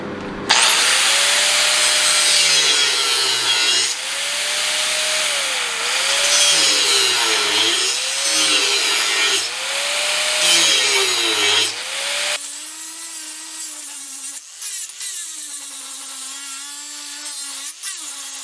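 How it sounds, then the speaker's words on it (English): Angle grinder biting into a forged metal mailbox flag at a blacksmith's shop: a loud, continuous high-pitched grinding whine with pitch dipping under load, stopping partway, then a quieter spinning-down tone. "I'm going to grind on it"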